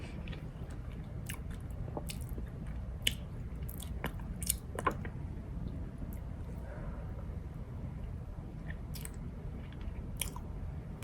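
Cupcakes being bitten into and chewed close to the mic, soft squishy mastication with occasional sharper crunchy bites and mouth clicks scattered through, steady and continuous with no talking.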